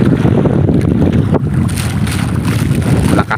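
A fishing boat out at sea during lobster net fishing at high tide, with strong wind roaring steadily and waves washing against the hull. The sound is loud and continuous, with no talking.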